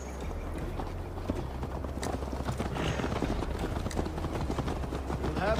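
Horse hooves clip-clopping at a steady riding pace in Assassin's Creed Valhalla, continuous and fairly near over a low rumbling game soundscape.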